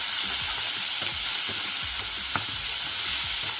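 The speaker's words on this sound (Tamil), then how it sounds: "இப்போ ஆனியன் வந்து கொஞ்சம் ஃப்ரை ஆனதும் நம்ம வந்து தக்காளி ஆட் பண்ணிக்கலாம்." Chopped onion and tomato fry in hot oil in a pan, giving a steady, close, dense sizzle throughout, with soft stirring scrapes and clicks scattered over it and no talking.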